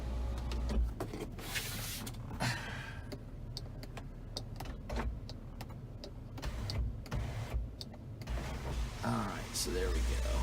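Power sunroof on an orange 2002 Chevy Avalanche 1500 4x4 V8 sliding open, a low motor whir inside the cab broken by clicks and rustling, with faint background noise.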